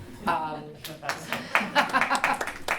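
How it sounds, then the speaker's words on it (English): A conference audience at a government cybersecurity talk claps in scattered, uneven bursts, with a speaker's voice and a little chuckling over the start. "thank you for the clap"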